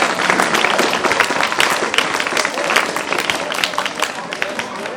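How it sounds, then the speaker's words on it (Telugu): Schoolchildren clap together at a teacher's retirement programme, a sustained dense patter of many small hands with a faint murmur of voices underneath. "చప్పట్లు బాగా కొడుతున్నారు."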